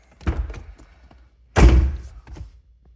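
A C5 Corvette door with a new door gasket swings shut with a solid, deep thunk, preceded by softer latch and handle clicks and followed by faint rattles, close and with no talking.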